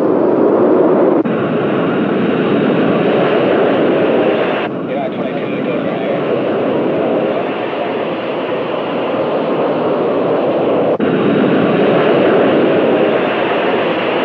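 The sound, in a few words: 1962 airliner taking off from Los Angeles runway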